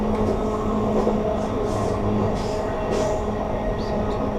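An Amtrak train runs along the Norfolk & Western main line between Lynchburg and Roanoke, with a steady rumble and rolling wheel noise heard from the rear of the train.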